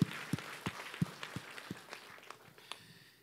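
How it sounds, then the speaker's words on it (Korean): A church congregation at a worship service gives a few loose, scattered claps, each a sharp individual slap that rises from a faint, roomy background and then trails off. "하나님께 박수 영광"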